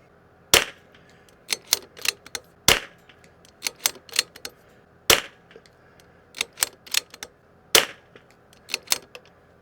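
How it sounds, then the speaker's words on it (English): Ten sharp .22LR rifle shots fired outdoors at a range on a windy day, spaced irregularly over several seconds, each a loud crisp crack with a short decay, with faint handling noises between. "We'll do 10 shots here."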